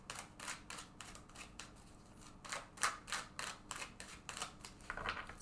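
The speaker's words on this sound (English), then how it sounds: "I'm just going to shuffle this deck" A deck of tarot cards being shuffled by hand: a run of quick papery riffles and soft slaps, close and fairly quiet, with brief bursts coming in uneven clusters and no voice.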